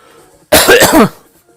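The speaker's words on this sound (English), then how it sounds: "I'm getting a little bit worried how much I'm coughing this afternoon" One loud, sharp cough bursts out close by, lasting about half a second, followed by quiet.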